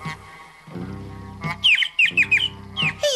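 Baby bird chirping in a cartoon scene, a run of short high cheeps coming in bursts over a soft musical background, fairly close and clear.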